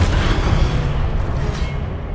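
Fiery Incendio spell blast in Hogwarts Legacy, a loud, dense boom that rolls on for about two seconds, close and alone before tapering off.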